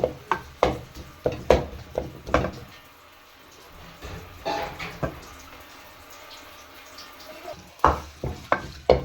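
Onions fry in oil for a Pakistani aloo anda matar curry, with a steady low sizzle broken by repeated loud stirring scrapes and clanks of a spoon against the pan, no speech.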